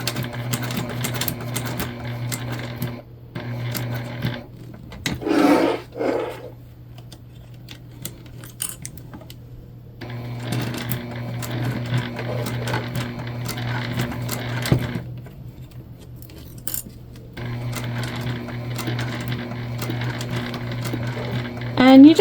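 Sewing machine running steady bursts of stitching along rows on a bucket bag, with pauses between runs and a brief voice heard in the gap.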